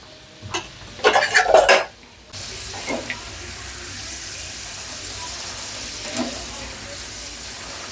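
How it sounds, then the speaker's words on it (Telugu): Crispy corn kernels frying in a pan of oil crackle and sizzle steadily after a burst of clattering utensil and pan noise at the start, with a brief spoken remark partway through. "ఫ్రై అవ్వాలి."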